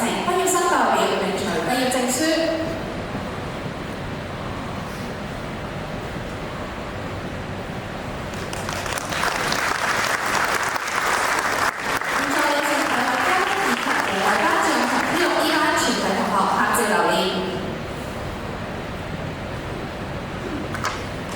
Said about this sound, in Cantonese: 請大家以熱烈嘅掌聲恭賀 P6 B 班